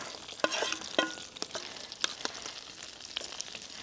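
Sliced onion half-rings tipped onto pan-fried dumplings, a close, steady sizzle broken by a few sharp scrapes and stirring knocks, with no talking.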